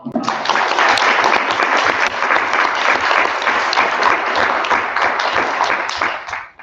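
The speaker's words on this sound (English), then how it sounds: "quick round of applause" Audience applause for finalists at the 2024 National Academic Bee, 7th grade finals: dense, steady clapping from a crowd, loud and continuous for several seconds before tapering off at the end.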